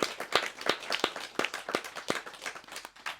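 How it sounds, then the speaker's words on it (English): Scattered audience clapping at a talk on queer British history and a helpline, a loose run of separate sharp claps from a small group, fairly quiet and without any voices. "I'm going to clap for"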